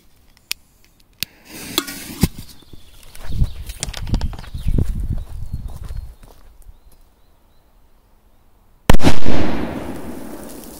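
A firecracker set to blow through the bottom of a small metal can bangs sharply after a few small pops and some clattering, the blast loud and close with a brief rushing tail.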